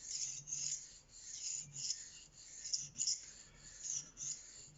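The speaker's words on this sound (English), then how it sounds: "all this is doing is just honing this up to make it that wee bit sharper for the missus in the kitchen" A kitchen knife is honed with repeated rhythmic scraping strokes, about a dozen short rasping passes, close and quiet, with no talking.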